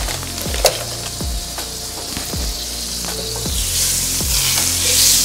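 Butter sizzles and crackles steadily as it melts in a hot pot, a loud, continuous frying hiss with occasional soft clinks, and no voices.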